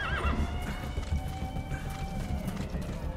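D-Horse, a horse in the Metal Gear Solid 5 video game, gives a loud whinny at the start, followed by steady galloping hoofbeats thudding rhythmically close by for the rest of the clip.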